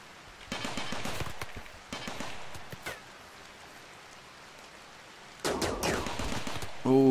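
Gunfire in the video game Rimworld, with clustered bursts of rattling shots coming in several rounds against a quiet hissing background, a final louder volley closing it out, no speech.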